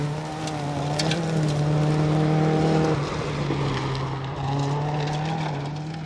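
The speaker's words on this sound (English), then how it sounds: "Rob and Michael Evatt take younger brother Joe's old Nova out for a spin and seem to be going well" An old Holden Nova rally car in the 1400 class drives hard on a Somerset forest stage. Its engine note swells loud, holds a high revving whine, then dips and climbs again as it passes close by.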